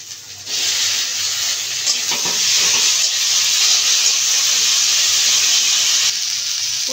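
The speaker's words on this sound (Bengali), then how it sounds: "এখন দিয়ে দিচ্ছি টমেটো কুচি" Chopped tomato hits hot oil for a Bengali egg curry, setting off a loud, steady sizzle and hiss that swells after a quiet start and holds at an even level before dropping away near the end.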